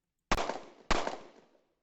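Two sharp, loud gunshots about half a second apart, each a sudden broadband crack trailing off into a short decaying echo, with near silence before.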